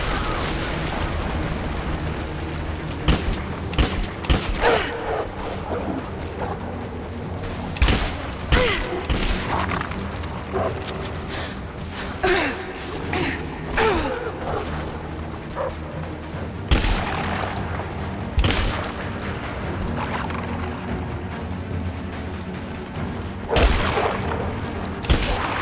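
Cannon fire in the Rise of the Tomb Raider video game, with repeated booming blasts scattered over a busy, loud mix of battle noise.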